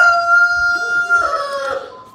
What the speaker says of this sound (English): The rooster is saying good morning.